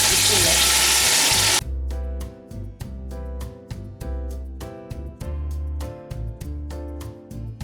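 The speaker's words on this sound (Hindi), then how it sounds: "अब हम इसमें पानी ऐड करेंगे।" Water pours loudly and steadily into a cooking pot for white chicken pulao for about a second and a half, then stops abruptly, giving way to rhythmic background music.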